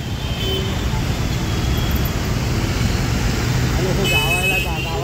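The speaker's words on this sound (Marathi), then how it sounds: "आणि ही बघा मुंबईची ट्रॅफिक" Mumbai road traffic at night rumbles as a continuous, fairly loud wash of engines and tyres, with a horn-like tone near the end and talk mixed in.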